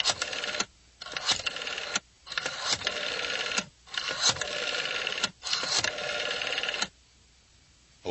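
An old rotary telephone is dialed, with several rapid ratcheting whirrs, each separated by short silent pauses as the dial returns, sounding close and clear with no voices.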